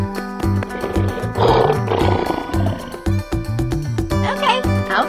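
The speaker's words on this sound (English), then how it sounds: "Lion." A lion roars in a loud, close cartoon-style burst over a bouncy musical backing with steady beats, in a children's animal painting setting.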